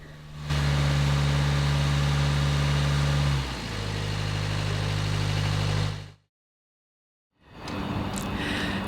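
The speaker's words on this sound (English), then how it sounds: "The final task the next day was to make sure that the engine actually started" A narrowboat's repaired engine runs loud and steady with a deep idling throb that shifts pitch partway through, then cuts to silence before a rougher running sound returns.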